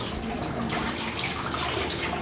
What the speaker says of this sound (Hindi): बिना शैम्पू के डुगु नहा रहा है